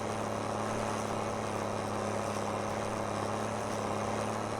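A tractor engine idles in the Farming Simulator 22 game, giving a steady low humming drone at a constant, moderate level with no talk.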